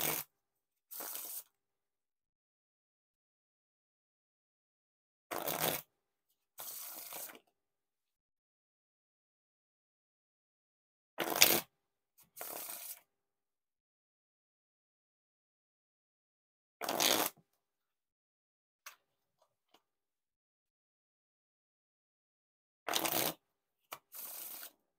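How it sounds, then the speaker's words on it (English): Tom's Town playing cards are riffle and bridge shuffled in repeated bursts: a quick ripping riffle followed by a softer cascading bridge, close and clear, separated by long silent gaps. "Now for the riffle shuffle or bridge shuffle."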